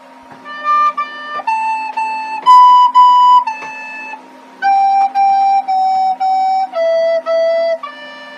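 A recorder flute plays the Twinkle Twinkle Little Star melody, clear, steady notes in short paired steps that move up and then down, close and loud, with no voice.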